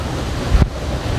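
Zoa Falls on the Ruo River in Thyolo, Malawi, at the Mozambique border, gives a loud, steady rushing roar of falling water, close by, with buffeting wind thumps on the microphone and no talking.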